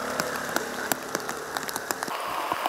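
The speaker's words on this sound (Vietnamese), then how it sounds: "do ảnh hưởng của đợt mưa lớn kéo dài từ đêm hôm qua đến sáng nay" Heavy rain falls steadily in Da Nang during a prolonged downpour, a dense hiss with scattered sharp drop patters on surfaces, fairly faint and continuous with no voices.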